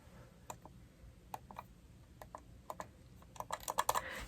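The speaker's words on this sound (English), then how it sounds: "It also has this soft click." Rechargeable wireless computer mouse with a soft click: scattered light clicks at first, then a quicker burst of clicks near the end, close and quiet in a still room.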